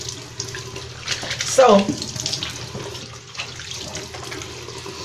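Water runs from a tap into a sink while a face is being rinsed in a morning routine, a steady broadband wash under brief talk, with a short splashy burst near the middle.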